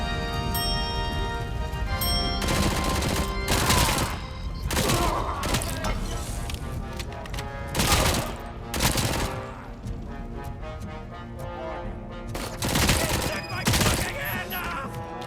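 SMG fire rattles in RoboCop, sharp bursts of rapid shots coming in repeated clusters between quieter stretches, with mechanical clatter in the background.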